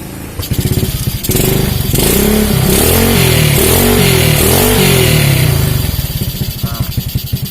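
A 2006 Suzuki Smash motorcycle engine, long unused, starts up and runs loudly nearby, revving up and down in several surges before settling back to a rough idle.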